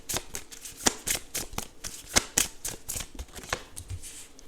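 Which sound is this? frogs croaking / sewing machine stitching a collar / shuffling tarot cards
shuffling tarot cards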